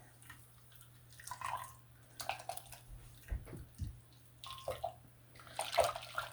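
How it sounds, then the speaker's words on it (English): A soapy felted item is rinsed under running water, with irregular splashing and dripping bursts that come and go, close by, over a steady low hum. "So we're going to give it a rinse."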